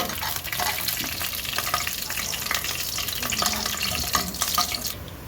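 Continuous crackling sizzle of mustard seeds, chana dal and urad dal frying in hot oil for tempering, close and fairly loud, with scattered pops and light stirring throughout.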